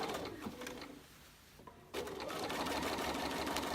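A sewing machine stitches a holiday table runner in short bursts, a close mechanical whir that stops briefly and then starts again. A pigeon coos faintly in the background.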